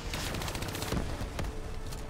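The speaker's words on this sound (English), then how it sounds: "This gun's got some good range." Continuous automatic gunfire from a long-range weapon in Call of Duty: Black Ops 3, rapid crackling bursts filling the whole moment at steady loudness, with a couple of sharper, heavier reports standing out midway.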